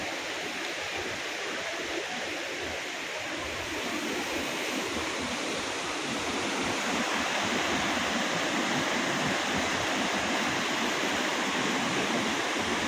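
Kempty Falls in Mussoorie roars with a dense, steady rush of falling water during heavy rain, loud and continuous with no voices.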